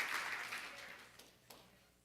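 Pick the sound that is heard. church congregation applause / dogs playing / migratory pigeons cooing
church congregation applause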